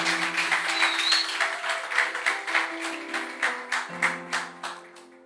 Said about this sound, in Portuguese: Podemos dar uma salva de palmas para ele?